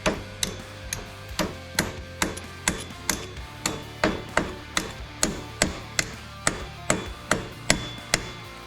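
A hammer strikes a chisel to pry open a glued part on a Kubota tractor under restoration, sharp metallic blows landing in a quick, fairly even rhythm close by, about two per second, with no one speaking.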